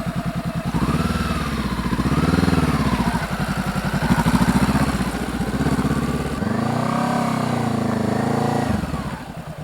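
A Honda CBR 500R motorcycle is ridden nearby, its engine loud and close as it revs up and down in repeated rising and falling surges, easing off toward the end.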